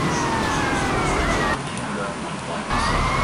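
Police car siren from GTA Vice City, a steady wailing tone sounding continuously behind engine and traffic noise, loud and close throughout.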